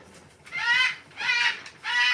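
A pet bird gives three short, bright clucking calls close to the microphone, evenly spaced, with only faint room noise between them.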